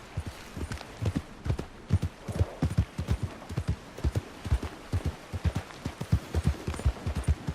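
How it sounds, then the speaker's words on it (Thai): Horse hooves clip-clop in a steady, even walking rhythm throughout, ridden through an open-world Western setting in Red Dead Redemption, fairly close and with no talk over them. "ขี่ม้ากินบรรยากาศชิบหายเลย"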